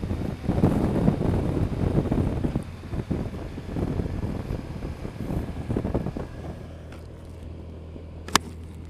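A Honda Crosstourer motorcycle riding in DCT sport mode in third gear on gravel. Steady engine drone and heavy wind buffeting fill the ride, easing slightly toward the end, with one brief sharp click.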